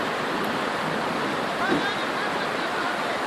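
Floodwater from an overflowing river rushing through a flooded garden in Antakya, Hatay: a steady, loud broadband roar of moving water, continuous and close, with no clear speech over it.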